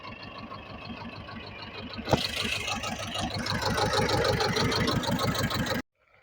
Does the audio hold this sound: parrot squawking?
no